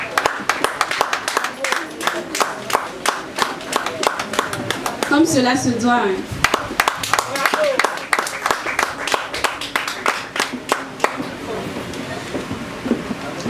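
Dense, steady clapping from an audience at a slam poetry evening runs throughout, with a voice speaking over it partway through.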